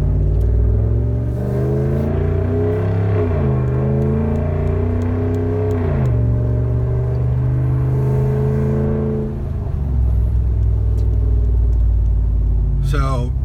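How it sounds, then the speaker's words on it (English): A 2017 Ram 1500 Big Horn pickup with an aftermarket exhaust rumbles loudly and steadily, the deep drone rising and falling through several revs close by. "This exhaust is loud, and it definitely turns a lot of heads"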